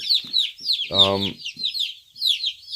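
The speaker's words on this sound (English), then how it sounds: "These are Cornish chickens, and so they're a little fattier bird" Cornish chickens cluck and chirp continuously at close range, with one louder, drawn-out squawk in the middle of the steady chatter.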